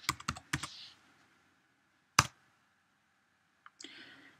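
Keys clacked on a computer keyboard while entering a Raspberry Pi terminal command, a few quick close clusters of clicks separated by pauses, then a single sharp tap and a short final burst.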